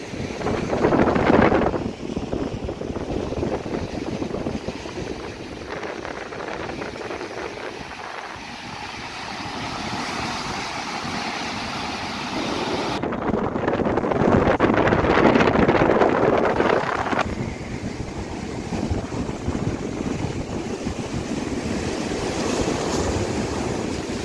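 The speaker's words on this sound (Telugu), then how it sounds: "ముప్పాడ సముద్ర తీరాన తుఫాన్ ప్రభావంతో ఎగసిపడుతున్నాయి అలలు" Sea waves surge onto the shore at Muppada beach in Kakinada district under cyclone conditions. The result is a continuous loud roar of churning surf with heavy wind buffeting across the microphone and no voices.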